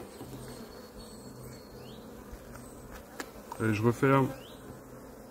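Honey bees hum steadily at an open hive during a box transfer from a nucleus hive to a full hive, a low insect drone running throughout, with someone speaking briefly near the end.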